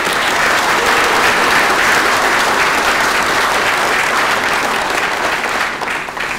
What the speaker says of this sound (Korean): 환영의 박수를 먼저 부탁드립니다